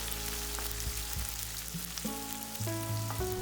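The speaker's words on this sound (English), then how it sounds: "I will be adding 2 tablespoons garlic, 1 tablespoon ginger coarsely ground, and stir it nice and proper." Garlic and ginger sauté over a medium flame, giving a steady, soft sizzle. Light scraping from stirring is scattered through it, and no one speaks.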